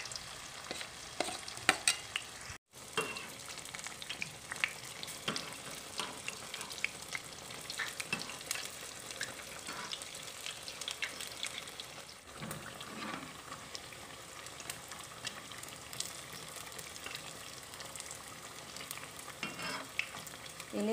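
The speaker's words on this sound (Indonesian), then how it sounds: "Goreng sampai matang." Corn fritters (bakwan jagung) fry in hot oil with a steady, soft sizzle and crackle that carries on throughout. Occasional stirring scrapes come through, and no one speaks.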